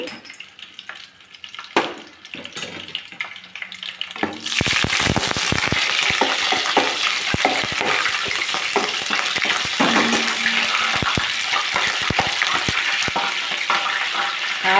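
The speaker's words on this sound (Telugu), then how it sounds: "ఒక స్పూను నూనెలో వెనపూస కూడా వేసేస్తున్నాను ఆయిల్ వేడెక్కింది" Butter and mustard seeds hit hot oil in a pan for a fish curry, a quiet stretch giving way to a loud, dense, continuous sizzle and crackle close up, with no talking.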